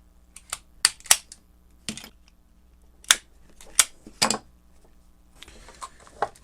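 Cutters snip the wire ends off the cable of a vintage Fein ASSD 715-1 42V electric screwdriver, giving several sharp, close clicks spaced irregularly in a quiet room, with faint rustling near the end.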